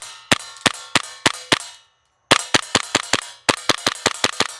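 A Lancer Tactical LTX airsoft pistol fires BBs on gas in quick sharp bursts, first about six shots, then a brief pause, then two runs of around seven snappy cracks each, loud and close with no talking.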